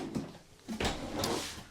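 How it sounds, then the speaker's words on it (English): A drawer slides open beneath the front kitchen counter of a 2025 Forest River Salem Hemisphere 261FKRB travel trailer, a short close rumble and soft thump. "Nice big drawers underneath it."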